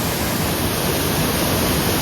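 Roadside waterfall pouring hard during heavy rain in the hills, a dense, steady rushing roar that fills the whole clip, loud and close with no breaks.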